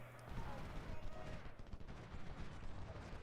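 Battle din from the Ultimate General Civil War video game: a dense, continuous rumble of massed musket fire and artillery, with crackling volleys and low booms blending together at moderate distance, and no clear breaks.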